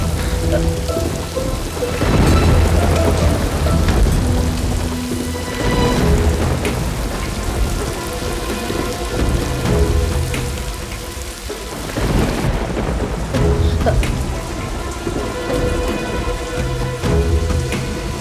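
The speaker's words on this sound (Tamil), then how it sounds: "மழை நிக்காது போல இருக்கே. இப்படி பெஞ்சிட்டு இருக்கு." Heavy rain pours down steadily and loudly, with deep rolls of thunder rumbling through the downpour, continuous and close with no talk.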